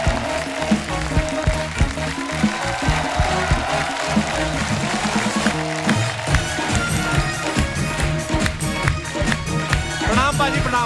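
Stage audience applauding as comedian Paintal walks on, a steady wash of clapping with cheers running throughout, loud and close.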